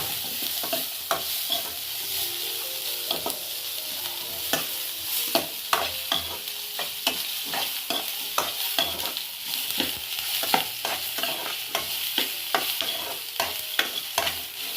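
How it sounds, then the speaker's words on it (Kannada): Paneer roll filling frying in a pan, with a continuous bright sizzle and repeated close spatula strokes and taps at a steady pace, no one talking. "ಇದನ್ನು ಒಂದು ಸ್ವಲ್ಪ ನೀಟಾಗಿ ಫ್ರೈ ಮಾಡ್ಕೊಳ್ಳೋದ"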